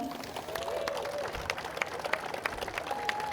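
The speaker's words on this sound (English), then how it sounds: "quick round of applause for Brennan Wallstrom" A crowd at Driftcon, a drifting car show, gives a quick round of applause, a moderate distant wash of clapping with a few sharper claps and murmuring voices throughout.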